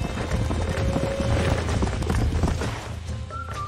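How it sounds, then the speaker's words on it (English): Horses' hooves clip-clopping in the Western game Red Dead Redemption, a dense, steady patter of several animals close by, with no voices over it. "These are fine horses."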